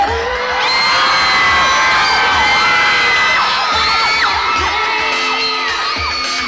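A large crowd screams and cheers loudly and continuously, many high-pitched voices overlapping in an excited roar.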